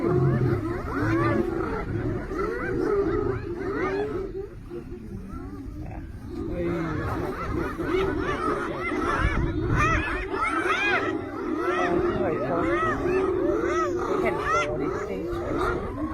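A lion fights a pack of hyenas in an African savanna reserve, giving out loud roars and growls among a din of cackling, whooping hyena calls. People talk over the animal noise throughout.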